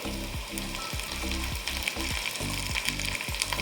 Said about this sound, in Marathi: त्यानंतर टोमॅटो टाकून छान त्याला फिरवून घ्यायचं आहे